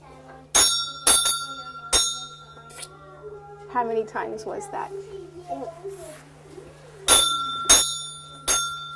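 A child striking metal chimes in a classroom music center, bright ringing strikes in small clusters at the start and end, with a voice and an adult voice talking in the middle and a steady background hum.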